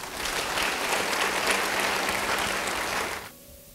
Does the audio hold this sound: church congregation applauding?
yes